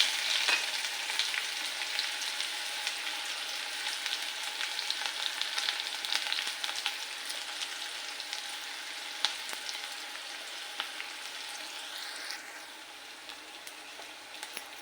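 Chopped onion frying in hot oil with cumin and mustard seeds in a home kitchen pan, a steady close sizzle with faint crackles and occasional stirring, no talking.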